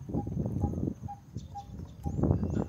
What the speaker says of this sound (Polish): Chyba ptak.